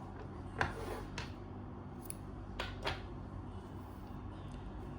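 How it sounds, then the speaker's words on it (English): Scissors snip through crochet yarn in a few quiet, sharp clicks spaced across a hushed room, the first cut the most distinct. "I'm going to cut the yarn"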